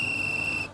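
A whistle blown at a beach surf camp as a shark warning: one loud, sustained, steady shrill blast, close and dominant, fading slightly at the end.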